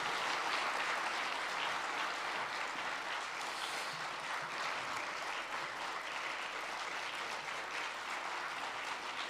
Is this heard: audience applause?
yes